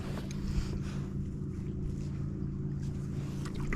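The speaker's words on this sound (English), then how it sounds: "There's this trolling motor going." A boat's trolling motor runs on open water as a low, steady hum, with wind buffeting the microphone and faint water sounds over a calm, continuous bed.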